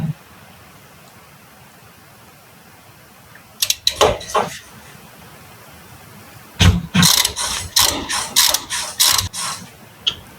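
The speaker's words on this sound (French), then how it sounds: "On prend ensuite l'embout adapté. Et on dévisse." A ratchet unscrewing a front brake caliper bolt on a car clicks in two bursts, a brief run first and then a longer series of loud, rhythmic ratcheting strokes, with no talk.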